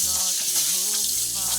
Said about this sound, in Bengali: এবার আমরা পটলটাকে হালকা ভেজে নেব